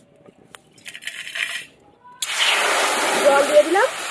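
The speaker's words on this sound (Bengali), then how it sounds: "জল দিয়ে দিলাম।" Water is poured into a hot cooking pan of fried spices while making Bengali dhoka dalna. A few light clinks and rustles come first, then a sudden loud, sustained rush and sizzle as the water hits the pan.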